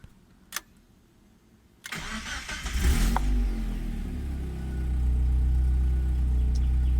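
A car engine cranks and fires after fuel pump priming, catching quickly and settling into a steady, close idle that swells slightly louder toward the end, following a faint click in near silence.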